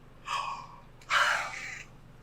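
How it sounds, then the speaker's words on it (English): A person yawning: two breathy, drawn-out exhalations, the second louder and longer, close up with no talk. "And now I can't stop yawning."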